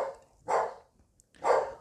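A dog barks twice, loud and near, each bark a full, throaty bow-wow about a second apart with quiet in between and no speech.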